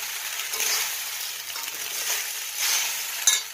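Food is stirred in a frying pan over a sizzling heat, with a close, steady fry and brief louder swishes from the stirring, then a quick clank at the end.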